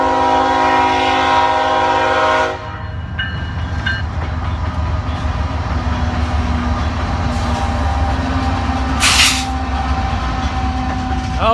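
A southbound BNSF double-stack intermodal freight train roars past close by at speed, its horn blaring at first, then a loud continuous rumble and clatter of wheels with a brief high squeal.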